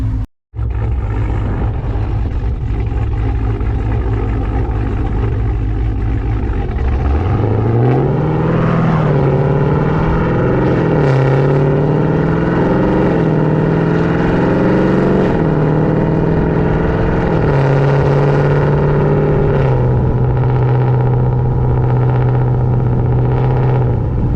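A 1500-horsepower Jeep Trackhawk cruises in automatic mode, its loud engine drone holding steady, then climbing in pitch and settling through smooth gear changes, continuous and close without any talk.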